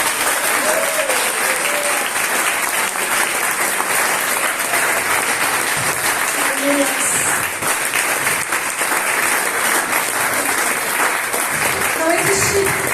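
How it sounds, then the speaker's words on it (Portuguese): A church congregation applauds during a Portuguese-language morning service, steady dense clapping filling the whole stretch, with a few voices calling out over it. "vamos aplaudir o nome do Senhor nesta manhã"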